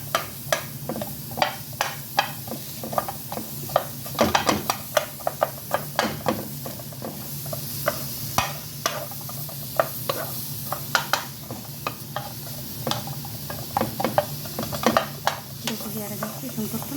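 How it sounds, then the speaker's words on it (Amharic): Onions frying in a pan while lamb liver (kibda) is cooked Arabic style, giving a steady soft sizzle with repeated sharp clicks and scrapes of stirring spread throughout. "ያረጋችሁ ሽንኩርቱን በደንብ አድርጋችሁ መጥበስ"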